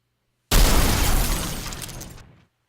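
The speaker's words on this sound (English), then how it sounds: "Destroyed explosion. This is when you destroy the spider." A video game sound effect of a spider robot being destroyed: a sudden loud explosion bursts with a shattering, crackling texture, then rumbles and fades out over about two seconds before cutting to silence.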